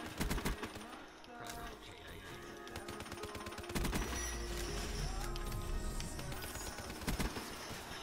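Man o' War machine gun firing in the video game Black Ops 3, with dense rapid bursts of automatic gunfire and impacts running throughout, mixed with other battle noise.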